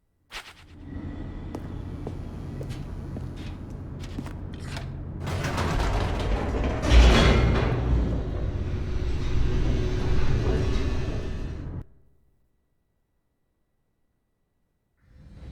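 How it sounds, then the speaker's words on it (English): An elevator racing downward in The Stanley Parable: a loud, continuous mechanical rumble with creaking and grinding that builds and sustains, then stops abruptly into silence. "The elevator raced downward, plummeting towards an unknown fate."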